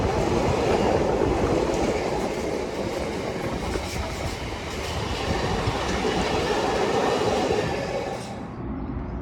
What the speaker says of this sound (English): Turns out we will be getting the freight train today then